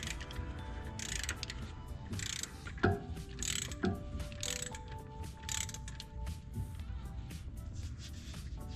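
Ratchet loosening a bolt on a Nissan 300ZX alternator, a steady run of close clicking pawl strokes in short bursts, with a couple of sharp metallic knocks against the engine bay.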